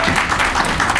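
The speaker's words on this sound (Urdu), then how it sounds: "تالیاں دے دیں" Audience at a literary book-launch gathering clapping in a dense, steady wash of applause, loud and close, with no speech over it.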